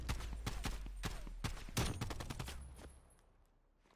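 SMG gunfire in the video game Black Ops Cold War: rapid bursts of shots that crack in quick succession, then fade into a quieter tail as the firing stops.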